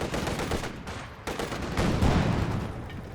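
Gunfire from an MG34 machine gun during a Company of Heroes 2 match, with dense bursts of shots rattling over about three seconds, loud and close amid battlefield noise.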